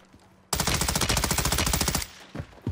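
Sustained burst of M13 rifle fire in the Warzone video game, a loud rapid automatic stream of shots lasting about a second and a half, followed by a few faint scattered sounds.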